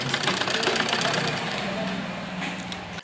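A sewing machine running steadily while stitching a net blouse for an embroidered lehenga, its mechanical whir continuous and fairly close throughout with no pauses.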